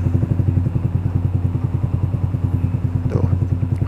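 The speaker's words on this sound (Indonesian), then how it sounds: "sekarang saya akan coba jalan naik motor ini gimana sih rasanya naik motor R15 V2 ini" A Yamaha YZF R15 V2 motorcycle engine idles with a rapid, even thumping pulse close by, with a brief clatter near the end before it pulls away.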